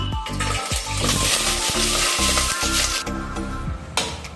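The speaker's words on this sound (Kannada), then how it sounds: "ಈಗ ಡೈರೆಕ್ಟ್ ಒಗ್ಗರಣೆಗೆ ಹಾಕ್ಬಿಡೋಣ" Loud sizzling of chicken dropped into hot tempering oil for chicken sambar, with scraping and stirring strokes breaking through the crackle.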